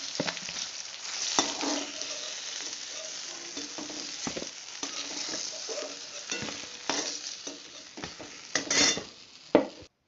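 Small cauliflower pieces fry in oil left from frying katla fish, a moderate sizzle close by, broken by spatula scrapes and clinks of metal against the pan.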